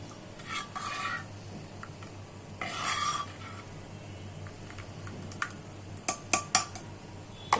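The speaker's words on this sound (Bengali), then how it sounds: "আমার এটা মাখানো শেষ" A spoon clinks and scrapes in a bowl, mixing egg into kholajali pitha batter, in short bursts separated by quiet gaps and ending in a few sharp taps.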